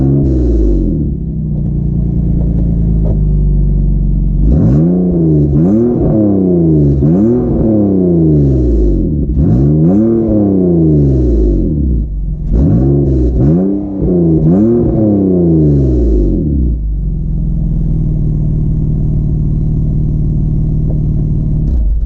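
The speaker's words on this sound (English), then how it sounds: "And I do have a TSE3 UUC exhaust, catback exhaust." A 2002 BMW 330i (E46, Dinan-tuned with stage 3 software) revs through a UUC TSE3 catback exhaust: a steady rumbling idle, then a series of sharp, loud blips rising and falling in quick succession before settling back to idle.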